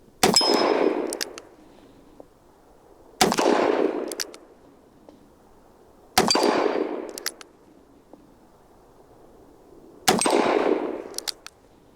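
A Ruger Redhawk .44 Magnum revolver with a 7.5-inch barrel fires four loud, booming shots at an outdoor range, spaced about three to four seconds apart, each with a sharp crack and a long ringing decay.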